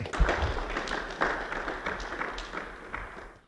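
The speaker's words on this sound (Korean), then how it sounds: "대표님께 다시 한번 뜨거운 박수 부탁드립니다" An audience at a Seoul fashion conference applauds after a lecture, a roomful of clapping that is steady at first and then thins out and fades toward the end.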